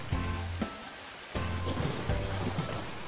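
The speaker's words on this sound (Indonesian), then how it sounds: "Musim hujan pun akhirnya tiba." Steady rain falls throughout, a dense hiss of drops on a surface, set under soft music in a children's story about ants and a grasshopper.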